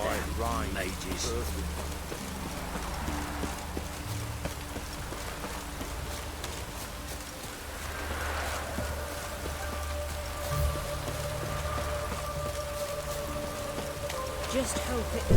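Steady rainfall pattering on surfaces in the Witcher 3 video game, a constant wash under spoken dialogue from game characters, with faint hoofbeats and background tones mixed in.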